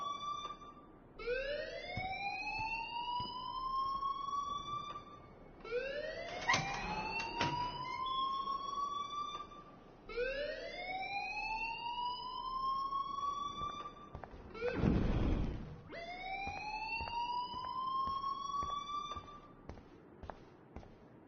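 A video game alarm sounds in repeating rising siren sweeps, roughly every four to five seconds, steady and fairly loud, with a few sharp bursts of noise cutting in between.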